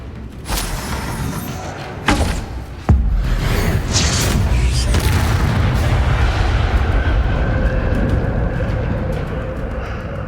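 Bombarda blasting spell in Hogwarts Legacy: several sharp booming impacts early on, the heaviest a deep thud, followed by a long rumbling roar that slowly fades out.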